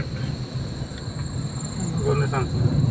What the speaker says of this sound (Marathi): रातकिड्यांचा आवाज बघा कसा येतोय तो.